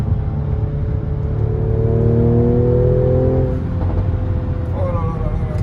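Mercedes C43 AMG engine revving loudly and steadily, its pitch sweeping up and settling, with a possible pop near the end; a voice talks over part of it.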